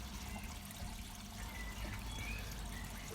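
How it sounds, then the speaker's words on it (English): Water from a homemade pond filter spills over into a small stream feeding a pond, giving a steady, continuous trickle and splash with an even low rumble throughout, close by and without voices. "Here the filter overflows into a small stream and that feeds the pond."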